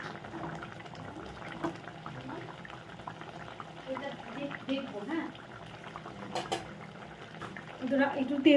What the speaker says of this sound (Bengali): ধনেপাতা দিয়ে একটুখানি ভালো করে ফুটিয়ে নিব